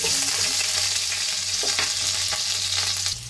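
Garlic sizzling in hot oil in a pan while cooking sotanghon guisado, a loud, steady frying hiss throughout, cutting off abruptly near the end.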